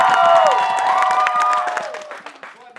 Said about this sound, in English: Applaud now for Red Team's Yearbook.